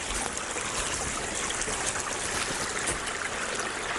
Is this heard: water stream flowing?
yes